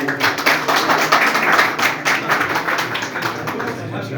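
Dense applause from a crowd at a Yeniden Refah Party membership ceremony, steady and loud throughout with individual claps audible and a voice talking over it.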